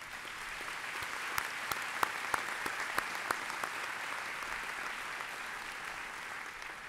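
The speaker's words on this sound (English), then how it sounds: "That deserves a round of applause." Audience applause at a university presidential inauguration ceremony, a fairly quiet, distant but steady wash of many hands clapping, with a few sharper nearby claps standing out early on.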